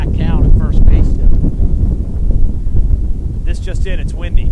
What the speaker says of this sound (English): This just in, it's windy.